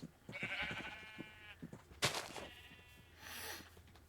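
Several sheep of different colours bleat in a video game in a couple of drawn-out calls, close and fairly clear, with short rustles and clicks between them and no talking.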